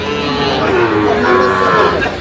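A heifer at a livestock market lets out one long, loud drawn-out moo lasting about two seconds, close by, with a faint hum of the market behind it.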